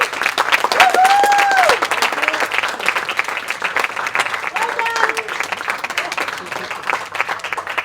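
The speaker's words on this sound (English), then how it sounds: "I also just want you guys to give a big round of applause to that wonderful team that helped me tonight." Guests at a dinner event at a hotel in Abu Dhabi give loud, dense applause. Rapid clapping runs steadily throughout with some voices mixed in.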